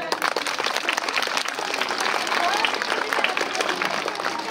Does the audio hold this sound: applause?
yes